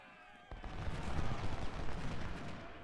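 Cannon and musket fire from an Ultimate General: Civil War battle breaks into a dense, rumbling barrage after a brief quiet start, sustained and distant-sounding.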